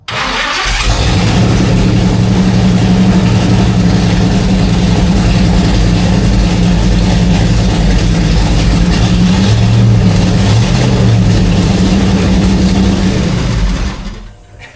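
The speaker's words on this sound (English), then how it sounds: "I just had to hear it. We haven't started this engine since it was in the car." A Baretta boat's engine, long unused and newly refitted, fires up and runs loud and steady, a strong idle with slight revving swells that holds for about thirteen seconds before cutting off.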